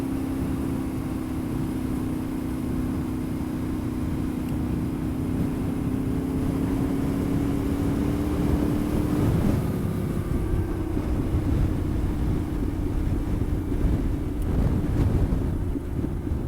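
A Yamaha Tenere 700 motorcycle rides a dirt road, its engine a steady low drone that shifts pitch slightly midway, buried under heavy continuous wind rush across the microphone.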